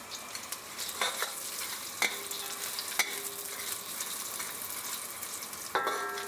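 Sakura shrimp and vegetables stir-fry over high heat for home-style yakisoba, a steady close sizzle broken by scraping stirs and clacks of the utensil against the pan.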